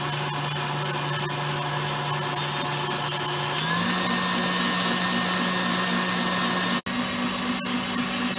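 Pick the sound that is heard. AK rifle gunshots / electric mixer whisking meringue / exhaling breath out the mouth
electric mixer whisking meringue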